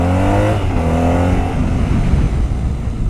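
A motorcycle engine is revved hard at full throttle, a loud close roar with climbing pitch that settles into a rougher, steady drone, with no talking.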